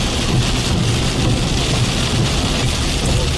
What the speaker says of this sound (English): it's just very, very heavy rain that can lead to some localized flooding pretty quickly